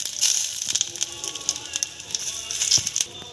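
Whole garam masala, a piece of cinnamon, cardamom, cloves and cumin seeds sizzle and crackle in hot oil, a steady close frying hiss with sharp pops scattered throughout.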